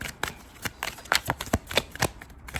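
Tarot cards handled and shuffled, a run of quick, crisp slaps and riffles coming in irregular bursts close to the listener, with no voices over them.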